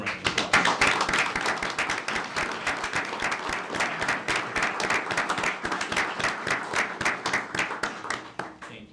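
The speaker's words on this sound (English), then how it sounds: "Let's give them a round of applause." Audience at a city mayor and council meeting breaks into sustained applause, many hands clapping steadily for several seconds before tapering off.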